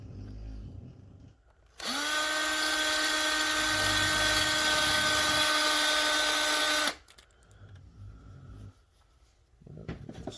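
A power drill whines steadily for about five seconds as it bores a hook hole into a homemade wooden crankbait, preceded and followed by quiet handling noises.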